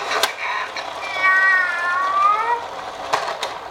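A baby imitates a cat with a drawn-out, wavering meow in the middle, alone and close. Short taps or knocks come before and after it.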